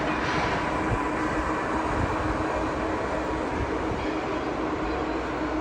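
A steady, continuous rumble of a Tren Maya train rolling along the tracks in Mexico, broad and loud throughout with no voices.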